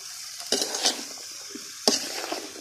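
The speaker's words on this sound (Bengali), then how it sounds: "আর আমি এখন দিয়ে দেবো দুন্দুল, যেগুলো আমি কেটে দিয়ে রেখেছিলাম" Sliced sponge gourd tipped into a pan of frying spices and stirred, bright sizzling bursts with clinking of a spoon against the pan, two distinct surges of sizzle.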